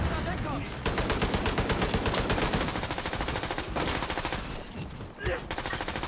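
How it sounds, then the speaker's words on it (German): Sustained bursts of assault rifle fire in The Division 2, rapid and dense with short pauses, loud and close throughout, mixed with game effects and some voice underneath. "Ich mag das Sturmgewehr nicht. Es ist total unpräzise."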